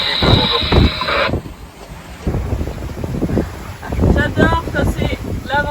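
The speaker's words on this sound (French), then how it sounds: "Ouais, il y a du vent." Strong sea wind buffets a heeling sailboat on its first night out, a loud rumbling rush against the microphone with splashy surges, while people talk over it.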